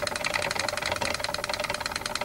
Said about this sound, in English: Now, here's a change. The old chattering teeth.